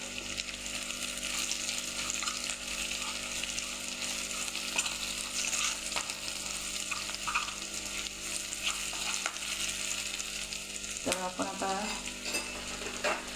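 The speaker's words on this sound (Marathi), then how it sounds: "परतवून घेऊ आपण थोडा गरम मसाला तो पण टाकणार आहे" Rajasthani-style papad curry sautés with garam masala in a pan, a steady close sizzle and frying hiss with scraping stirs throughout, and a brief liquid gurgle near the end.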